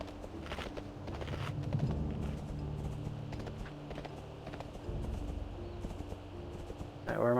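World of Warcraft horses clip-clop faintly in the background in Grizzly Hills over a steady low ambience, with scattered clicks and a brief rising chirp at the very end.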